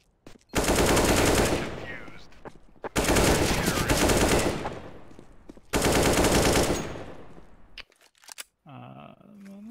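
An AK rifle in a video game fires three long, loud, close bursts separated by short pauses, followed by faint game effects.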